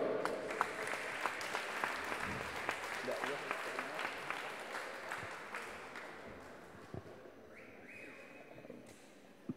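Audience clapping at a prize ceremony during a town basketball festival, a scattered round of applause that slowly thins out, with sharp individual claps and background voices and a brief tone near the end.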